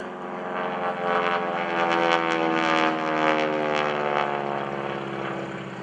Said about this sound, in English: Coming in from behind us. Here's Kevin Russo, the SNJ. Smoke is on.